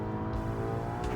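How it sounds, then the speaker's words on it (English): A custom turbocharged flat-8 engine in a Bolide car revs hard and steadily, a dense, loud, close growl that sounds strained and rough throughout, with no voices. "Oh, that was an unhappy engine."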